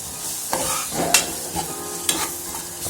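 Ginger garlic paste frying in a pan for a mutton, cucumber and tomato curry, stirred with a large spoon: gentle sizzling under repeated scraping strokes of the spoon, close by.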